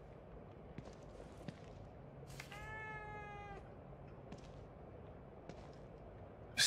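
A cat in the horror game The Evil Within 2 lets out one drawn-out, wavering meow in the middle, heard over a low ambient hum with faint scattered clicks.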